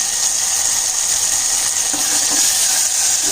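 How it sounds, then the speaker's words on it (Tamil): Chopped tomatoes sautéing in a pan for rasam, a loud, dense, continuous hiss of frying with faint stirring scrapes, close and without voices. "இப்போ நம்ம தக்காளி கட் பண்ணி வச்சுருக்க தக்காளி சேர்த்துக்கோங்க தக்காளி நல்லா வதங்கட்டும்"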